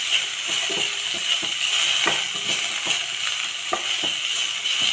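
Beans and small-cut carrot sautéing in a pan for colourful semiya kichadi, a steady broadband sizzle with repeated scraping stir strokes and clinks throughout, close and fairly loud, no talking.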